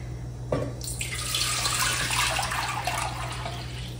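Water pours steadily into a container for finger millet papad dough, starting abruptly after a brief clunk and continuing as a continuous splashing rush with no talking.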